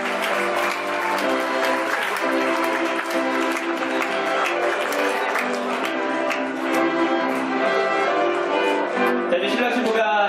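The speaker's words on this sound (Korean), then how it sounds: "내빈 여러분 다시 한 번 더 신랑 신부를 큰 박수로 축하해 주시기 바랍니다." Wedding guests applaud the bride and groom at a ceremony, steady clapping blended with loud background music throughout.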